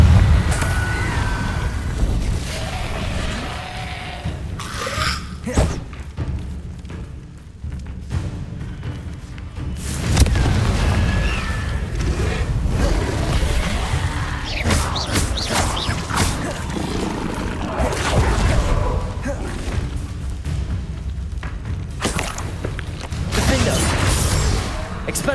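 Confringo blasting spells exploding during Hogwarts Legacy combat, a dense jumble of booms, crashes, thuds and whooshes over continuous game music and effects, with repeated loud impacts throughout.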